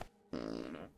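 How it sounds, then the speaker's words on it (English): The cartoon Orange character from an Among Us animation lets out a short, buzzy fart lasting under a second, loud and close, following a brief quiet pause. "Did Orange just fart?"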